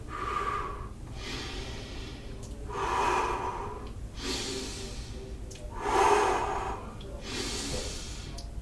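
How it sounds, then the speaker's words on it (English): A person breathes rhythmically during an exercise workout before lunges: three loud, close exhales and inhales, each roughly three seconds apart, with softer breaths between and no talking. "Exhale through the mouth, inhale through the nostrils."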